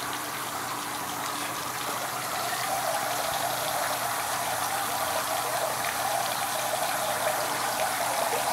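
Water from a swimming pool pours steadily over an edge toward the filter at a bar, a loud, constant, hissing gush that holds unchanged throughout with no voices.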